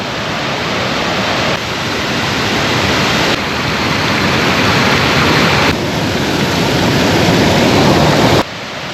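Water rushing over a stepped river weir built for fish migration; a loud, dense, continuous roar close by, steady throughout with slight shifts in level and no talk.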